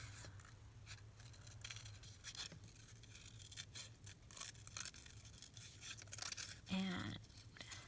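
Paper being cut out with scissors while crafting a forget-me-not embellishment for a Valentine journal card, with soft snipping and rustling under quiet background hum.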